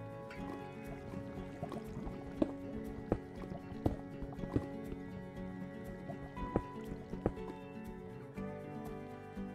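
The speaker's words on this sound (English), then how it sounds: "I hear water down there." Water drips in a Minecraft-style cave, sharp irregular plinks popping out of a steady low ambient rumble, spaced every second or so and fairly clear.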